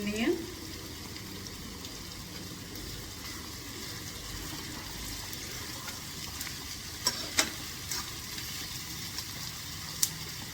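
Onions and garlic frying together in a pan for dhaba-style baingan bharta, giving a steady low sizzle with a few sharp clicks of stirring near the end.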